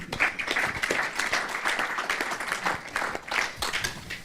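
An audience claps steadily at a business awards ceremony for the Reprendre & Réussir 2017 contest, dense sustained applause from a crowd in a hall, heard alone at moderate loudness.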